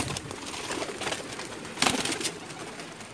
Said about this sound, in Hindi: ये जनाब लाखे कबूतर आपको दिखा रहे हैं